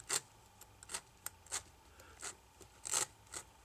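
A cutter blade scrapes old adhesive off the frame of an iPad 2 in short, separate rasping strokes, about seven of them spaced irregularly, close and fairly quiet, with no talking.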